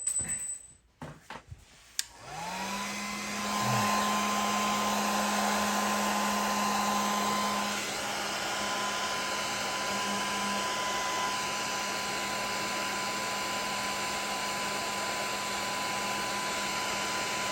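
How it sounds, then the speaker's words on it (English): A heat gun roars steadily for over fifteen seconds, blowing hot air on winch wiring during a Polaris Sportsman winch install; it starts after a few clicks and handling noises, loud and close, with no talk. "Now I gotta get my heat gun out."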